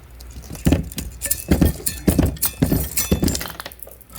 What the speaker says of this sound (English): Now I can just grab the end of the cage and with the dikes and just rip it up